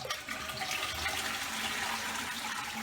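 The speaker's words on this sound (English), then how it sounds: "We've got a good flush." Toilet cistern flushing after its flush lever handle was replaced: a close, steady rush of gurgling water lasting a few seconds, with no voices.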